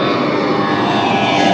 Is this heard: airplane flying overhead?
yes